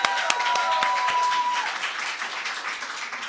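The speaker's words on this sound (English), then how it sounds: "Please give yourselves a huge round of applause." A graduation ceremony audience at a BCom graduation applauds, a dense, steady patter of many hands clapping at once from a crowded hall, holding level for the whole stretch.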